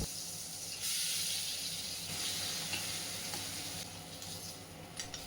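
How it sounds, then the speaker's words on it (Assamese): Fish pieces frying in hot oil, a soft continuous hiss and sizzle with brief surges of crackle, steady and fairly quiet. "আৰু এনেকৈ মই গোটেইখিনি মাছ ভাজি ল'লোঁ"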